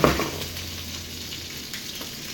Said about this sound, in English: Listen, I want you, you're gonna hear the sizzle.